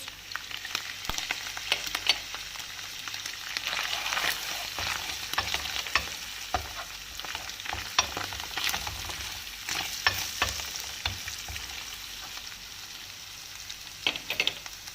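Minced meat fries with tomato paste, chili flakes, ground red pepper, dried mint and black pepper for bulgur köfte, sizzling steadily under close, repeated scraping and clicking of a spoon stirring the pan, with no voices.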